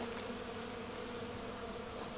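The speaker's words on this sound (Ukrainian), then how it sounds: "Але ці бджоли." Bees buzzing steadily and fairly close, a continuous droning hum with no voices.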